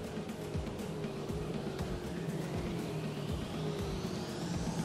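Engine drone and tyre noise of TA2 race cars passing one after another at Sepang International Circuit during a Thailand Super Series session, with a steady roar and a rising whine as a car goes by, fairly loud and continuous.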